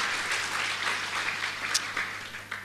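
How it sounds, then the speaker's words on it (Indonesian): Church congregation applause, a brief moderate wash of clapping from a crowd in a worship hall, steady for a few seconds with a low hum underneath. "Mari berikan tepuk tangan."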